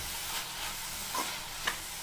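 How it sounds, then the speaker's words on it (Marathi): Chopped spring onion greens frying in a pan: a soft, steady sizzle with a few light stirring scrapes near the end, fairly quiet and without talk. "ही बघा भाजी एकदम छान प्रकारे फ्राय होतीये।"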